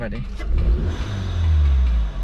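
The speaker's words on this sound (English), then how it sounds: "hopefully you can hear kind of a little bit of a turbo" A turbocharged Volkswagen Scirocco engine with a performance air filter revs hard, a low throaty roar swelling and holding steady, close and loud throughout.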